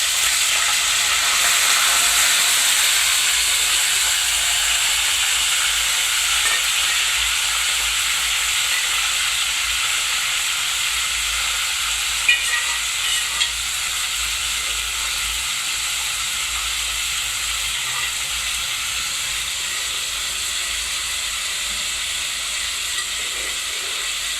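Mutton keema with curry leaves fries in a pressure cooker, a steady, even sizzle and hiss running throughout at moderate loudness, with a couple of faint clicks and no talk.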